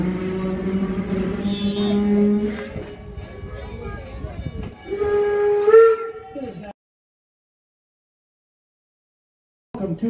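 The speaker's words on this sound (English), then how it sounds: "Please, wait for the whistle" A steam train whistle at Greenfield Village Railroad blows long and loud, fades, then sounds again in a shorter blast before near silence and a brief burst of noise.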